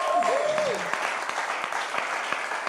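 Applause at a Congolese church worship gathering, a steady wash of clapping throughout, with a brief rising sung or voiced tone near the start.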